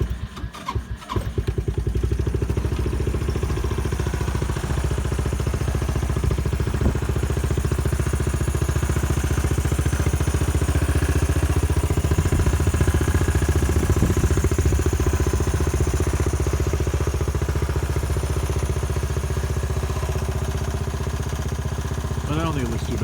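Kandi 250cc go kart engine cranks and catches within the first second or two, then settles into a loud, steady running idle close by for the rest of the time, with a person talking faintly over it.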